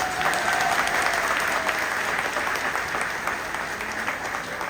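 A large crowd at a political rally breaks into sustained applause, a dense wash of clapping that stays loud and even throughout, slightly distant, with no talk over it.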